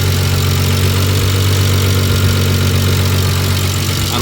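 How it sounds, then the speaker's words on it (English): A swapped-in Toyota engine idles steadily in a Nissan 370z Nismo flex-fuel build, a smooth continuous low hum with faint regular injector ticking, close and constant throughout. "All you hear is just the ticking of the injectors."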